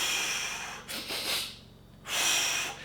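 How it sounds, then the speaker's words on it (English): Breathing technique for running: a breath drawn in through the nose, then a forceful exhale through the mouth, heard as close, airy rushes with a short pause between them. "a triple inhale through the nose and then a hard out exhale through the mouth really helps"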